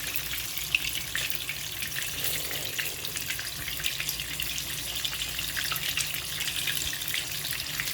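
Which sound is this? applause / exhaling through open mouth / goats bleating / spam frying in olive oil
spam frying in olive oil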